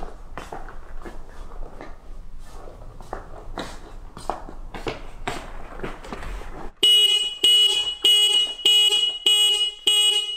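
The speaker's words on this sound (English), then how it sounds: "After turning the ignition off, the alarm system is being engaged after 30 seconds." Triumph Bonneville T100 motorcycle with M-Unit alarm arming after the ignition is switched off: a loud series of about six sharp electronic chirps in a steady rhythm, following a stretch of muffled handling noise.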